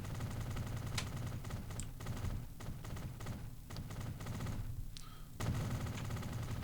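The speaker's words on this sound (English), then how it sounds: "Pass me the tree gun" In Transport Fever, a tree-placing tool drops trees with a run of sharp, irregular clicks and pops over a steady game backdrop, with no talking.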